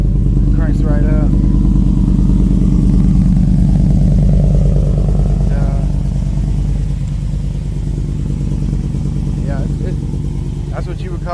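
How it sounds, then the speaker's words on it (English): A fuel-injected engine idles after a cold start, a loud close steady rumble with some rattle and clatter, while people talk over it. "That fuel injection's nice. Cranks right up."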